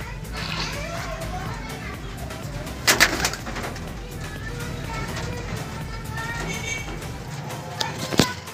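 Young pigeons in a new loft cooing amid a busy background of children playing and chattering, with a couple of sharp clacks standing out.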